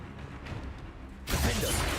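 The Confringo spell is cast in the video game Hogwarts Legacy, a faint buildup giving way to a sudden loud, crackling burst that sustains with a bright, shattering rush to the end.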